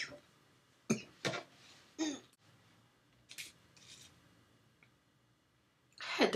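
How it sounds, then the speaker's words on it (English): A few short coughs and throat-clearing bursts, close and fairly loud, separated by quiet pauses. "I had to cough."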